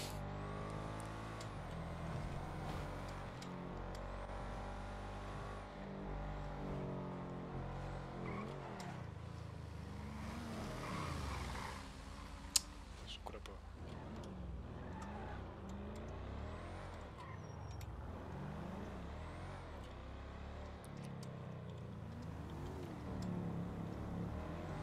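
Engines of several cars driving and revving in a French roleplay video game, a steady loud rumble running throughout with rising and falling revs and one sharp click near the middle.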